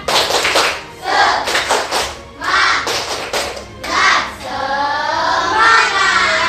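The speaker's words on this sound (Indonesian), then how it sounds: "Tepuk semangat." A classroom of children performs a rhythmic group clap, bursts of patterned hand claps alternating with loud chanted call-outs, the whole class clapping and shouting together up close.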